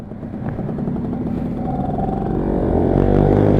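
Restored old Yamaha Alfa 2R motorcycle being ridden, its small engine buzzing and revving up steadily, growing louder and rougher toward the end, close to the mic with rushing wind and no talk.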